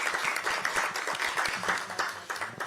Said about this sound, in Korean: 박수 한번 치고 시작하죠.